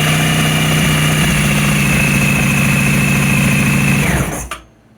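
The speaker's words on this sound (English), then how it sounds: "Okay, now if we turn the bike on, hit the starter" A Honda ST1100 motorcycle engine runs with a loud, steady idle and a whining drone close up, then cuts out abruptly near the end.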